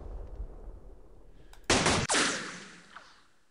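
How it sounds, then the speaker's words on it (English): Mortar fire in a World War II strategy video game: a low rumble, then a sudden loud blast with a sharp crack that fades into a long decaying roar. "there's a mortar"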